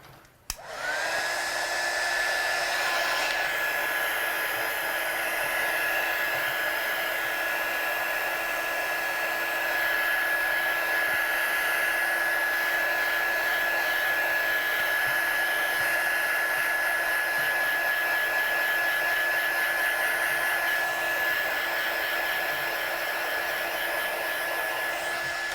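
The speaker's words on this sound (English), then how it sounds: "Just dry it off quickly." A hair dryer blows on a watercolour-painted card, a loud, steady whirring drone that starts abruptly and runs unbroken for the whole stretch with no voices.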